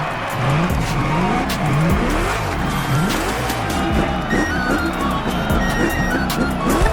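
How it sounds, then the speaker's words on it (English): A muscle car does a drag race burnout in The Crew Motorfest's American Muscle Mustang tribute event, with engine revs repeatedly sweeping up through gear changes under continuous loud tire squeal and skidding. "Drag racing time. Don't overthink, just burn and fly."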